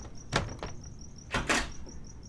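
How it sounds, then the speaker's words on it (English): Sharp knocks on a door come in two short pairs, the second pair heavier. Each hit is close and loud against a quiet room with a faint steady tone. "Fuming, I banged on the door to set things straight."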